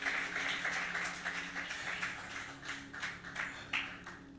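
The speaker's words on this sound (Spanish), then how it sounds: "démosle un aplauso al Espíritu Santo" Church congregation at a Sunday service clapping in unison, a steady, moderately distant round of applause that swells and eases in waves over a few seconds.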